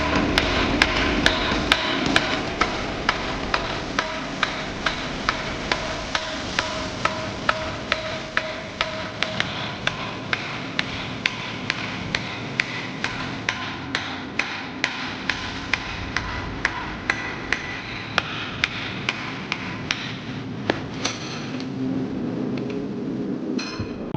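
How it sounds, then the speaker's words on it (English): A hammer punches hot quarter-inch steel flat bar on an anvil, sharp regular strikes ringing at a steady rhythm, close and clear for over twenty seconds. "I'm really comfortable at sitting there at my anvil and punching"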